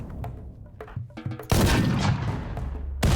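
Gunfire in the RimWorld colony game during a raid: a sparse run of sharp shots, then a dense, loud sustained burst of overlapping fire from about halfway through, with another volley at the very end.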